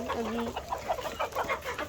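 Several chickens cluck close by in short, irregular bursts, with a low background murmur underneath.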